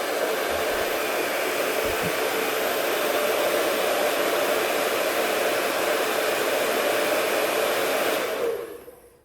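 Heat tool blowing hot air onto a vinyl decal on plastic, a steady loud close hiss of airflow that holds evenly, then cuts off and fades at the end.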